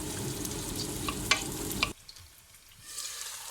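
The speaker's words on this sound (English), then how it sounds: "then you want it to fry in the pan for about 3 to 4 minutes until the onion gets soft" Onion frying in a non-stick pan and stirred with a wooden spoon, a steady close sizzle with a few scraping clicks, then the frying drops away to a much quieter hiss partway through; no talking.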